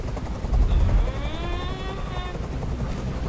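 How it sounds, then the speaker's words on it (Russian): Helicopter in the video game Detroit: Become Human, a steady low rotor rumble with a rising whine layered on top, loud and continuous throughout. "Прикажи им, чтобы вертолет убрался!"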